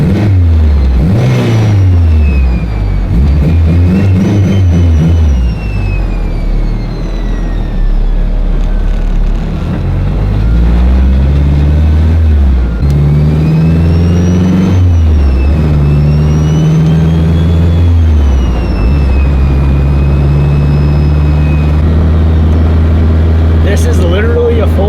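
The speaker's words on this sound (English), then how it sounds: "Listen to the exhaust note from the mic by the exhaust. This thing sounds fantastic." Honda Civic Si with a full exhaust, driven hard: loud, close engine revving rising and falling through repeated gear pulls, a deep throaty drone dominating with occasional talk over it.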